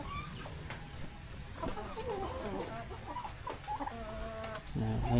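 A small pet turkey gives soft, scattered clucks at close range, faint against a low background rustle, with a few short calls spaced irregularly over several seconds.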